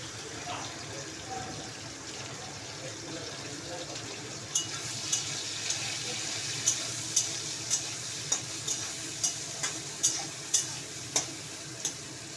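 Cumin, chili and ginger frying in a pan with a soft steady sizzle, joined halfway through by a regular series of light clicking or tapping strikes, moderately faint.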